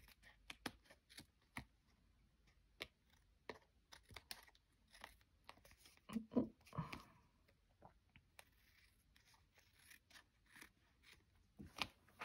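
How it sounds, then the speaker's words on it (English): Quiet, close snips of scissors cutting card, irregular and crisp, with a brief rustle of handling partway through. "turn it over and just cut off all the little bits on the side that we don't need"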